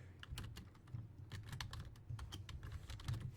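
Quick, uneven keystrokes clatter on a computer keyboard at close range, with fast bursts of clicks and short pauses and no voices over them.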